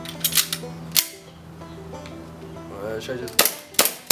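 An airsoft gun firing with a hand-warmed magazine gives several sharp close cracks, two quick shots at the start, one near the first second and two loud ones near the end, with brief speech in between.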